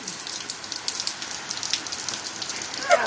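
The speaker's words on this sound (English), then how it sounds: "This is what we call showering in the rain." Rain falling outdoors during a shower, a steady crackly patter of drops close by, with a brief brighter splash near the end and no talking.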